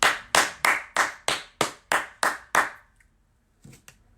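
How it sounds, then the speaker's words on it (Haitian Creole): About nine sharp, evenly spaced claps ring out in a quick steady rhythm, then stop, followed by a faint soft thump. "Bat bravo pour la jeunesse."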